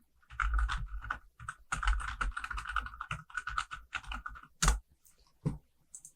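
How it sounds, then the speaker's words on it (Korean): Rapid, close keystrokes clatter on a computer keyboard in quick bursts, with a few heavier key presses such as Enter standing out. The typing is heard alone, without talk. "타이핑은 미리 한 게 있으니까 타이핑 할게요"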